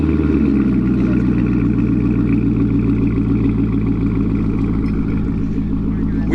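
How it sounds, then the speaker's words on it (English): A Corvette C7 on cold start with an AWE touring axle-back exhaust idles loudly with a throaty, burbling exhaust rumble, steady and close, with faint voices underneath. "we are going to get the first cold start of Rich's C7 with that AWE touring axle back"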